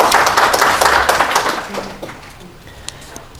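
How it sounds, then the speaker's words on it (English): A school quiz competition audience gives a round of applause, a loud burst of dense clapping that thins out and fades over a few seconds, leaving scattered claps. "So give yourself a round of applause before I go into my remarks."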